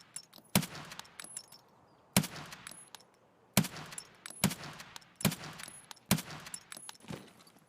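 Gunshots fired at range in Escape from Tarkov ring out as loud single cracks, roughly six spaced a second or so apart, each followed by a short echoing tail.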